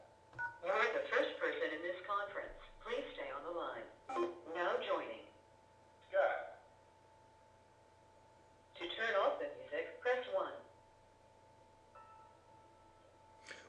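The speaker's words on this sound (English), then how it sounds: "At the tone, say your name and then press pound." Telephone keypad DTMF tones and prompts while joining a Mitel conference call: a steady tone runs throughout, with several bursts of tones and a voice prompt in between.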